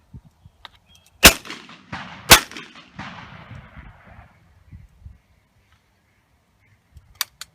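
Two loud, sharp shotgun blasts from a double-barrel break-action shotgun fired outdoors about a second apart, each followed by a rolling echo that fades over a few seconds, then faint clicks near the end.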